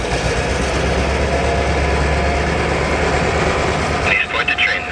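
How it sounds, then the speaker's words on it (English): A train engine rumbles low and steady nearby, a continuous idling drone with faint background noise and a brief shift near the end. "Get the sound of the engine, maybe?"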